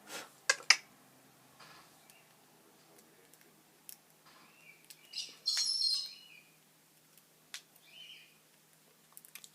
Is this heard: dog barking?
no